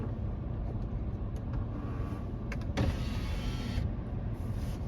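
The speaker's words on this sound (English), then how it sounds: "I gotta crack the window to balance the car." A car's electric power window motor whirs steadily as the window lowers, heard from inside the cabin over a constant low engine and road rumble while the heater runs high, with no talking.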